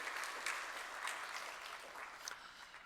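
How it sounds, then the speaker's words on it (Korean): A church congregation applauds during a Sunday worship service at Pohang Neulsarang Church, a soft, steady wash of many hands clapping at a distance, fairly faint and continuous for a few seconds. "우리 찬양 받으신 주님께 영광의 박수 올립시다."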